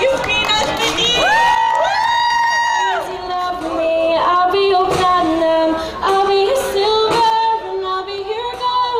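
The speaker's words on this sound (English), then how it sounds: "clap your hands together for the famous Yufina's Beneath" Crowd at an outdoor Ramadan gathering in Centennial Plaza, Edmonton, cheering and whooping loudly with high-pitched children's shouts and scattered claps, a close, energetic burst of excited voices.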